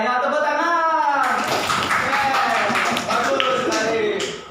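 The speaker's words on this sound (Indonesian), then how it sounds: "Ya, tepuk tangan." A classroom of students claps together on cue, a dense patter of many hands that swells and then fades, with a voice speaking over the start.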